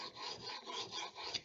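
A blade clamped in a Veritas honing guide is rubbed in short, quiet back-and-forth strokes on a sharpening stone to put a micro bevel on its edge. The gritty rasping comes through close and soft, with no talking.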